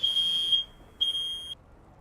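Two shrill smoke alarm beeps ring out one after another, each about half a second long, fairly close by in a quiet room.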